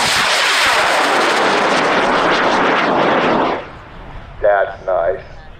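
A high power rocket on an L-1256 motor launches at a hobby rocketry event, a loud sustained roaring rush of exhaust that holds steady for several seconds, then cuts off abruptly, leaving quiet outdoor ambience with brief speech afterward.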